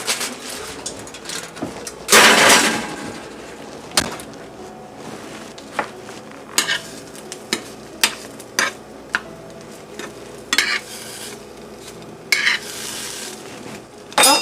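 French toast cooking in a frying pan, a steady sizzle broken by sharp clinks and scrapes of a utensil against the pan, with one louder burst of frying early on and no talking.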